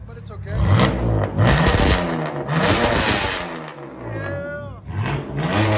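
A 2002 BMW 325i with a 2.5-litre inline-six and straight pipes revs loudly and close, its raspy engine note rising and falling through several blips, with voices talking over it.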